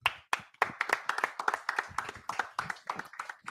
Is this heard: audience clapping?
yes